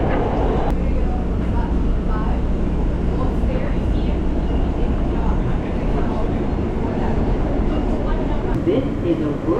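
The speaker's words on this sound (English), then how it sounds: "This is a World Trade Center bound E train." A World Trade Center bound E train on the New York City subway rumbles loudly and continuously as it rides, a dense, roaring rail noise that fills the car from start to end.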